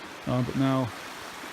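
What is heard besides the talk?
flowing water of the Little Missouri River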